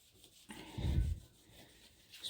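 Sandpaper rubbing over dried filler on a chipped bath, a short scratchy sanding stroke that swells for about half a second near the middle, with faint rasping before and after, close and fairly quiet.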